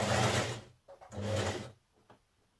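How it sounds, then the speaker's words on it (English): A domestic sewing machine stitches a set-in sleeve into a 1940s vintage-style blouse, running in two short bursts of whirring motor noise with a brief pause and a fading tail. "So I'm just stitching my sleeve in place now."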